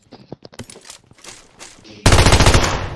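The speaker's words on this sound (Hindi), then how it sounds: "ये फायरिंग मैंने जानबूझ के की थी।" Scattered shots from the PUBG battle royale on the Livik map near the power plant, then a sudden loud, sustained burst of rapid machine gun fire close up.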